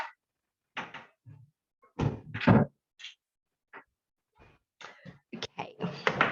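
A door in a room opens to let a dog out, heard as scattered thumps, handle clicks and shuffling knocks close by, separated by brief silences.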